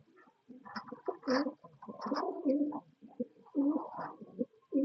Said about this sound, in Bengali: আমাদের কাছে রয়েছে আরো এক জোড়া রেসার কবুতর